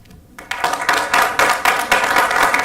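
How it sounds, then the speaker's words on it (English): Audience clapping at a county council meeting in Volusia County, starting faintly and swelling into steady, dense applause from a room of people. "I would request that people not clap nor boo when we do something up here"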